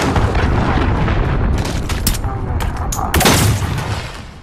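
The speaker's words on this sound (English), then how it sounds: "Allied cruise missile away" Cruise missile strike in Call of Duty Modern Warfare, loud continuous rumbling explosions and crackling blasts filling the scene, with bursts of sharper impacts toward the end.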